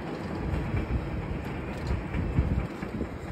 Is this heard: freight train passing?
yes